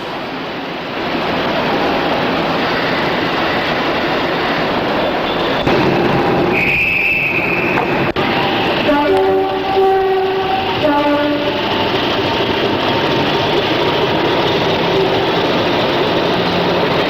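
A British Rail Class 50 diesel locomotive passes close by with a loud, heavy engine rumble, sounding its two-tone horn in several blasts midway as the train rolls on.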